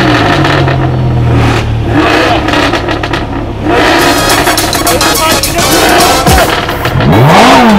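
A Jaguar F-Type S V8 accelerates hard in a loud, close engine roar, with revs rising and dropping through gear changes near the end.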